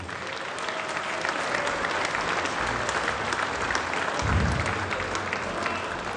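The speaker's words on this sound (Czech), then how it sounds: "veľký potlesk pre nich" A crowd at the Rebuy Stars fight night breaks into sustained, loud applause, a thick steady wash of many hands clapping for several seconds, with a low thump partway through.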